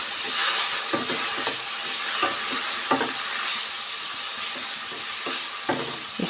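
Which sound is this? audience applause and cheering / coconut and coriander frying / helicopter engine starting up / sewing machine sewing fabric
coconut and coriander frying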